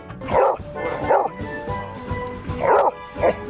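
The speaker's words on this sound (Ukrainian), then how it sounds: "Собачки славляться мелодійними та пронизливо дзвінкими голосами." A beagle gives loud, close, ringing barks in two pairs, each pair a sharper yelp followed quickly by a second, with short quieter gaps between them.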